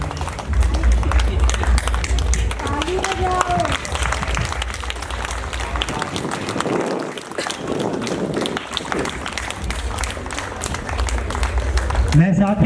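Dense, continuous applause from a ceremony audience on Montfort Day 2025 in Montfort Nagar, a loud sustained wash of many hands clapping, with voices talking faintly underneath throughout.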